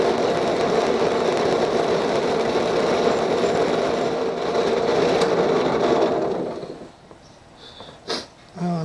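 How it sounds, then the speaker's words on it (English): A drill spinning a wire wheel against a clutch part, a steady loud grinding scrape that runs for about six seconds, then stops and leaves brief faint handling noises. "So I'm going to bring it over to the drill and see if I can scrape that off with the wire."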